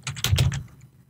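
Quick burst of keystrokes on a computer keyboard while entering game script code, about six clacks in under a second, close and fairly soft, with no talking.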